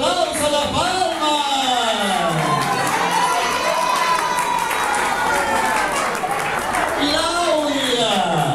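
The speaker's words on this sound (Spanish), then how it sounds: "¡Fuerte los aplausos" Wedding reception guests cheering, whooping and clapping at a crowded evening party, loud and continuous, with excited shouting voices dominating over the scattered applause.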